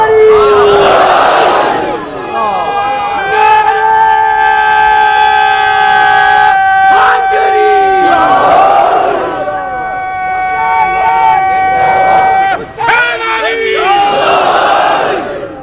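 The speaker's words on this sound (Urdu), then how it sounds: "اتنی بلند صلوات بھیجے محمد علیہ وسلم" A large crowd at a religious gathering chants salawat loudly in unison, swelling in three surging bursts, with drawn-out, tonal voices sustained between them.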